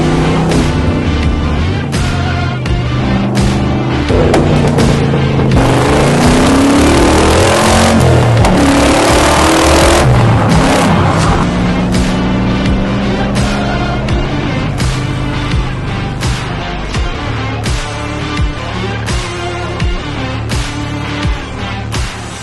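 A fast car on Isle of Man roads revs hard and loud, its engine climbing and falling through the gears over a long stretch of spirited driving.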